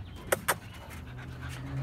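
A dog pants close by in two sharp bursts of breath, followed by softer, quicker panting over a low background rumble.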